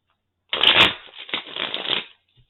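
Tarot cards shuffled by hand in a few quick riffling bursts, crisp and close, with a short pause between bursts and no talking.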